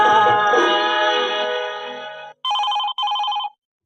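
A telephone rings loudly in two short bursts on a Chhattisgarhi radio phone-in song request programme, cutting in right after music fades out.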